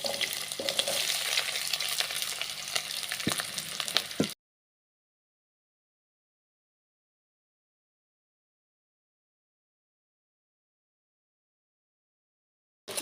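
Two medium sliced onions hit hot oil in a pan and sizzle with a steady, close hiss for about four seconds, then it cuts to silence.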